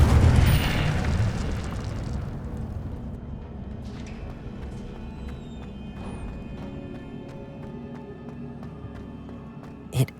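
An Incendio spell goes off in the video game Hogwarts Legacy with a loud, booming burst, then a long rumbling fade and a small pop near the end.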